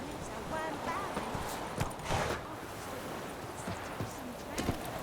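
Hooves of the horse Roach thud and clip-clop at a run across the ground in Witcher 3, a quiet irregular patter set against a soft, washy ambient background.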